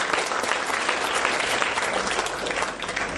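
A seated audience at an academic oration breaks into continuous, evenly sustained clapping that fills the whole few seconds without pause.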